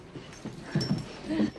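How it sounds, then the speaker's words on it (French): A small dog whimpers in a few short, high, plaintive whines that rise near the end, close by and fairly quiet, with no speech over them. "Un petit chien."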